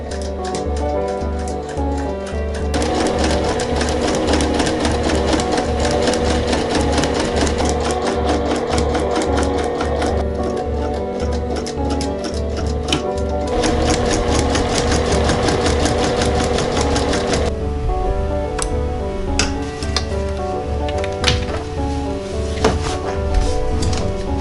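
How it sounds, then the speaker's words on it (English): A sewing machine runs steadily for a long stretch, stitching a zipper into a side seam, its rapid even needle clatter loud and close with a brief pause near the start and a slowing toward the end. "And as I start to sew, I'll do a couple stitches and then I'll just gently hold the thread at the top of the machine to hold some tension."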